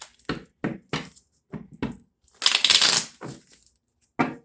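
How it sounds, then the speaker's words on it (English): Tarot cards are shuffled with several quick riffling bursts, then a longer rapid riffle, close and crisp, with short pauses between. "One more shuffle, Capricorn."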